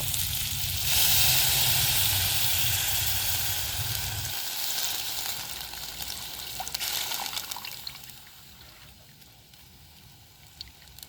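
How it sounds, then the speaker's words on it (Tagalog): Mackerel broth hits a hot pan with a loud, steady sizzle and watery hiss that starts full and gradually softens into a gentler bubbling fry, with a few small pops near the end. "Pagkatapos ay ilagay natin ang sabaw ng ating mackerel."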